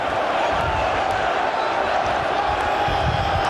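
Manchester City fans pack the pitch at a Premier League title trophy celebration, filling the air with a dense, steady roar of crowd noise that never lets up, with a voice faintly beneath it.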